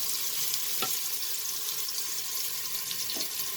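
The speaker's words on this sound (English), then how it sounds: "So let's just fry the onions." Sliced onions frying in oil in a dekchi pot, a steady bright sizzle with a couple of faint clinks, no talking.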